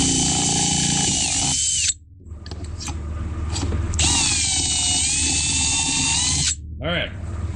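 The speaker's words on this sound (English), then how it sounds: "we're gonna drill this hole a little bit bigger" A power drill enlarges the pull-cord hole in a snow blower's plastic housing, whining loudly and steadily in two long bursts with a short pause between, then briefly revving down as someone speaks.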